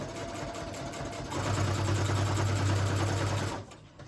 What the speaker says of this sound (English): You're about to hear the sewing machine.